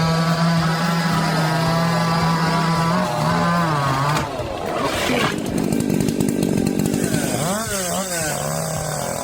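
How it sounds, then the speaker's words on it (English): A Husqvarna 371 XP chainsaw cuts through a giant redwood, its engine droning loud and steady throughout, with the pitch dipping and surging midway as the chain bites into the wood. "You're tackling a giant redwood, and your trusty Husqvarna 371 XP slices through it like butter."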